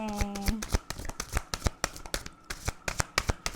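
Tarot cards are shuffled close by in quick, crisp riffling bursts and slaps, repeating rhythmically throughout.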